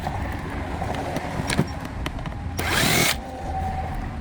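A power drill or screwdriver backs screws out of a QSC CP8 speaker cover, giving a close, buzzy whir that swells for about half a second, over steady background noise and a few light clicks.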